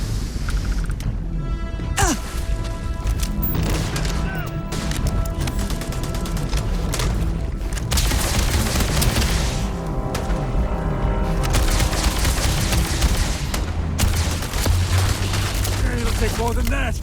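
Gunfire from the video game Starfield rattles in dense, repeated volleys for the whole stretch, loud and close, mixed with mechanical clanks and impacts while voices shout over it.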